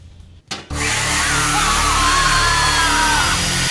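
A beam cutter saw, a chainsaw-style saw with a circular-saw look, starts with a short burst, then cuts wood with a loud, steady, sustained whine and grind lasting several seconds before stopping abruptly.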